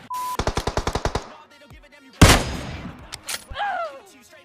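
Automatic gunfire in the mobile battle royale game PUBG Mobile, a fast burst of about ten shots followed by a louder single blast and decaying echoes, with brief game effects afterward.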